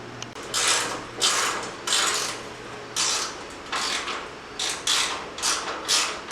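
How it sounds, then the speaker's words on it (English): A gear assembly being taken apart by hand during a micro camper frame build: repeated bursts of close mechanical ratcheting clicks, about ten in a row, evenly spaced and fairly loud, with no talking. "I'm taking that gear thing apart to get it off because my Sawzall battery is dead"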